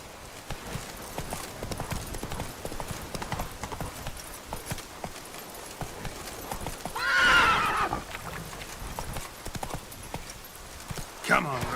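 Horse galloping in The Witcher 3, a steady clip-clop of hooves running throughout with a loud, close whinny rising midway and a brief second neigh near the end.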